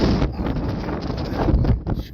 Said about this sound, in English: It was windy out here too